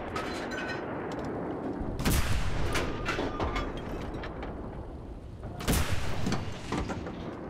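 Tank cannon fire in a video game, with two loud booming blasts a few seconds apart over a rumbling mechanical background.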